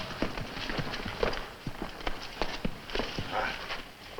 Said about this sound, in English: Pancho, take care of the horses.